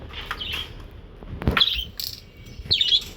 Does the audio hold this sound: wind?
no